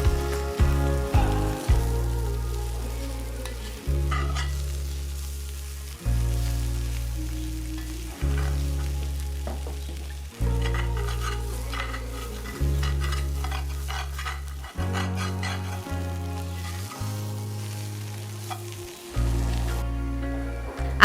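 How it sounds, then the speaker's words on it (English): Aloo potatoes fry in a pan while a spatula lifts them and scrapes the browned fond from the bottom. A soft sizzle continues throughout, broken by repeated scraping and stirring strokes, under a steady low tone of music. "Gently lift the aloo with a spatula and scrape up the bun-bun or the fond at the bottom."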